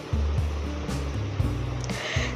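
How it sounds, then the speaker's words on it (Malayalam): Boiling water is poured into a pan of soya Manchurian gravy, a steady rushing, gushing pour heard up close with a low rumbling undertone and no talk. "ഇനി ഇതിലേക്ക് 3 കപ്പ് തിളച്ച വെള്ളം ഒഴിച്ചു കൊടുക്കുക."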